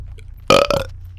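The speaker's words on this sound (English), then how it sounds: "Rick's burping can get quite annoying" A single loud, close burp, the cartoon character Rick from Rick and Morty, lasts under half a second in otherwise quiet surroundings.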